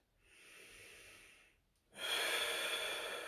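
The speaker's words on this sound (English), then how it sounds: "working on my breathing. Deep breath in." Deep, steady breathing during a static full-body stretch: a soft, drawn-out breath followed by a brief pause, then a louder, fuller exhale of rushing air, close and alone with no talk.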